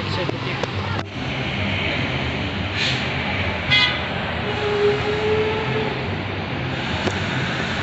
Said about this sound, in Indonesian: Disusul Santika Jet Bus 5 MHD